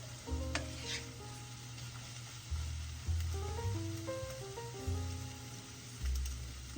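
Scrambled eggs cooking in bacon grease in a pan give a steady low sizzle, broken by several soft scraping strokes as a utensil pushes and moves them around, fairly close and with no talking.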